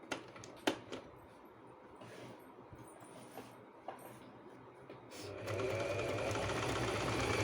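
A sewing machine stitches a sleeve seam in quiet, faint running bursts with small clicks, then settles into a steadier, louder continuous whir toward the end.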